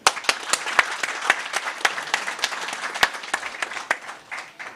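A small audience at a political media event applauds, with scattered individual claps forming a brief, moderately loud round of clapping.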